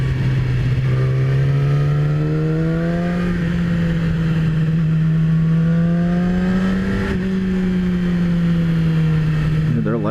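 A 2017 Yamaha R6 sport bike engine holds a steady, loud drone, with its pitch rising gradually through the gears before easing off, sounding close and continuous from start to finish.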